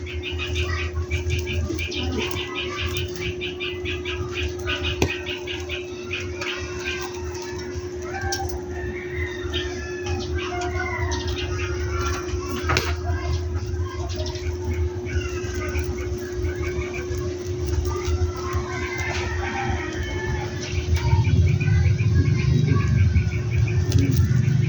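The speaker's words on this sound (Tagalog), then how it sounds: "Meron pa mga ibon na humuhuni." Small birds chirp and twitter faintly in the background outdoors, over a steady hum and rustling, with a louder noisy stretch near the end.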